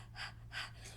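A person imitates a panting dog with two breathy, rhythmic huffs, then a fainter third breath, heard close up and quiet over a low steady hum.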